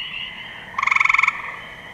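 Cope's and eastern gray tree frogs call at night, a rapid burst of about a dozen evenly pulsed, bright trilling chirps rising over a steady background chorus of calling frogs, then fading back into the continuous drone.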